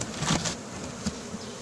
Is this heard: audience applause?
no